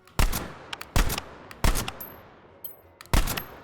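A Fedorov automatic rifle in the VR game H3VR fires four loud, close bursts of rapid shots, each followed by a short ringing tail and clinking shell casings.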